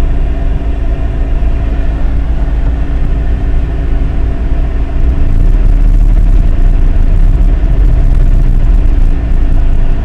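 A Jeep Grand Cherokee ZJ with a 5.2-liter V8 runs with a steady, loud low rumble; partway through the throttle opens slightly and the engine note rises and thickens, then holds.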